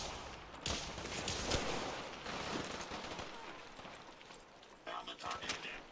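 Dense automatic gunfire and bursts of shots in Fallout 4, a running firefight loud and continuous throughout, with voices talking over the shooting.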